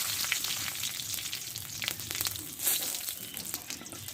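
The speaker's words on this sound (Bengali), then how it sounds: "এবার এই তেলে একটা শুকনো লঙ্কা আর কয়েকটা পাঁচফোড়ন দিয়ে দেবো আর দেবো একটা ছিঁড়ে তেজপাতা" A dried red chilli, panch phoron and a torn bay leaf spit and sizzle in hot oil, a close, steady crackle with a brief louder burst partway through.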